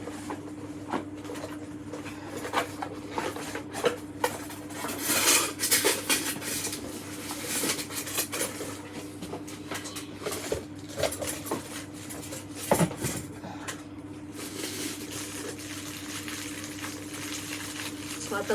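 Round clear glass dish of a Scentsy wax warmer being handled, with light clinks and taps of glass scattered over a steady low hum, close and moderately quiet.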